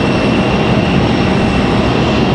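An American Boeing 737 airliner sits on the runway at Raleigh-Durham airport, its engines giving off a loud, steady broadband roar with a faint high whine, unchanging throughout and with no voices.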